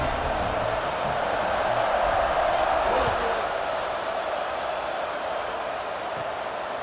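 A steady roar of a large stadium crowd in a video game American football match fills the space, broad and constant, with a loud wash of cheering noise throughout.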